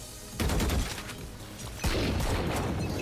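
Two bursts of rapid fire from the Vandal rifle in Valorant, each a loud sustained volley, the second starting about halfway through.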